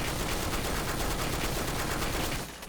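Rifle fire from the Blackshot video game pours out in a dense, continuous automatic burst, loud and sustained, ending abruptly.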